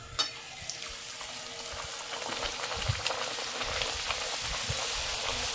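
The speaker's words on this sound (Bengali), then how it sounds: "এখানে লুচি ভাজা হচ্ছে।" Luchi, puffed Bengali flatbread, frying in hot oil in a wok, with a steady close crackling sizzle that rises after a soft start and holds throughout, with no voices.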